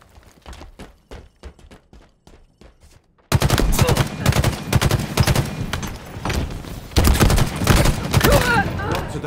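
Gunfire in a Halo Infinite team slayer match, starting as a sparse run of quieter rapid shots, then erupting into loud, dense, overlapping bursts of weapon fire that continue to the end.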